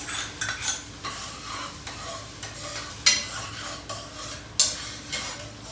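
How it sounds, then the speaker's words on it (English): Crushed tomatoes go into a pan of sizzling sausage and are stirred, giving a moderate hiss with repeated utensil scrapes and a couple of bright metallic clinks against the pan. "Then we're going to add our crushed tomatoes."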